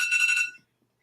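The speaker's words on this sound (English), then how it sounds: "That was my alarm going off." A single short electronic alarm tone, bright and buzzy, sounds up close for about half a second and then cuts off into silence.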